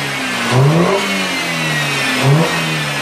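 A BMW 320i fitted with a K&N intake idles and then rises in two quick revs about two seconds apart. The loud, close engine note swells and falls back each time.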